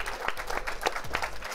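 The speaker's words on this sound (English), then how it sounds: "If he wants to stand up, we can all clap for him." A studio audience applauds in a brief burst of steady, dense clapping close by, with no voices over it.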